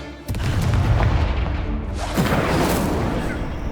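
A spell impact explosion in the Hogwarts Legacy video game: a loud, heavy boom erupts and rolls into a sustained rumbling roar, with a second surge partway through.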